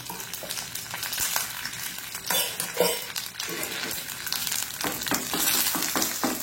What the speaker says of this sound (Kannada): ಜಸ್ಟ್ ಇಷ್ಟನ್ನೇ ಹಾಕಿ ಒಂದು ಸಣ್ಣ ಒಗ್ಗರಣೆ ಕೊಡ್ತಿದ್ದೇನೆ